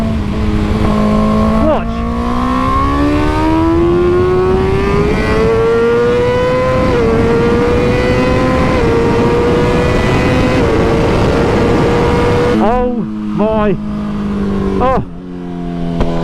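A factory BMW M 1000 RR superbike engine revs loud and close, pitch climbing steadily for several seconds, then snapping through sharp blips and rev drops, with a voice speaking briefly over it.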